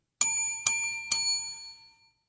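A bell on a radio show is struck three times in quick succession, each ring bright and ringing out before the next, with the last one fading slowly into silence.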